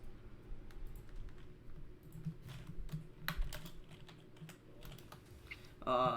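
Typing on a computer keyboard during a tabletop role-playing session: quiet, steady rapid key clicks continue throughout, soft and close, ending with a brief tonal blip.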